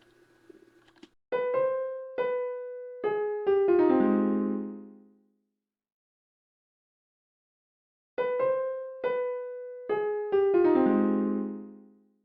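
A simple melody on the dark piano preset of FL Keys in FL Studio plays two matching phrases of plucked, decaying notes. Each phrase ends in a fuller chord, with a short silence between the phrases.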